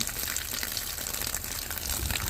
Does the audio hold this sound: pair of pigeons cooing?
no